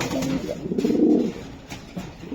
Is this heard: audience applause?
no